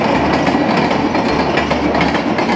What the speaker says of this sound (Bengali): এই যে ট্রেন যাচ্ছে, এটা হচ্ছে বাংলাদেশ রেলওয়ে কি ট্রেন